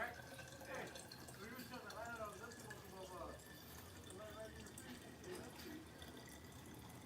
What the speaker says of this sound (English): just pour it through there and strain it out.